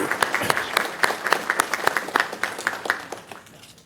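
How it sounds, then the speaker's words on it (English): Audience at a city council meeting giving a round of applause for a chaplain: a modest crowd clapping with distinct individual claps audible, steady then tapering off toward the end. "So can we give Chaplain a round of applause?"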